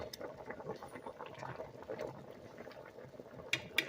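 Beans boil in a pot on the stove, a quiet, steady bubbling and gentle popping with a few sharper clicks near the end.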